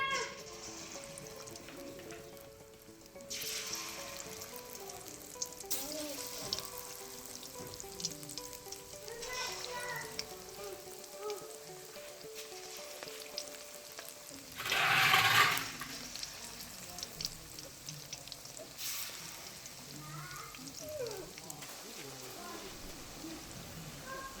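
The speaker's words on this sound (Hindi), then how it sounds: "अब कढ़ाई में घी गर्म करें और आम पकौड़ों के साइज़ के पकौड़े बना के इसमें डालते जाएं।" Pakoras frying in hot ghee in a kadhai: a steady soft sizzle and crackle runs under a calm voice, with a brief louder hiss as more batter drops into the fat.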